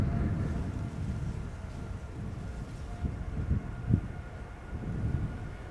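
An Air Canada Boeing 787 Dreamliner departs from Schiphol's Polderbaan, a distant steady low jet roar that swells slightly toward the middle, with no voices.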